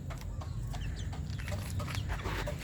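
Bulik chickens and young cockerels cluck and chirp in a small backyard pen, several birds overlapping in soft, steady chatter close by with no voices.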